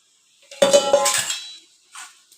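A metal cooking pot is picked up and handled in a kitchen, with a ringing clang followed by scraping and clinking for about a second, then a brief softer knock after a pause.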